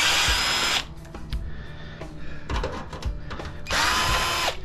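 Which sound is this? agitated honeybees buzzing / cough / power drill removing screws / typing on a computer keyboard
power drill removing screws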